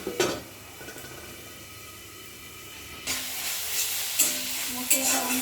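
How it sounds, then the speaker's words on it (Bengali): A spice paste fries and gets stirred in a pan. A hiss runs steadily and then jumps louder partway through, and a few scraping stirs rise above the sizzle. "মশলাটা ভালো করে কষিয়ে নেব"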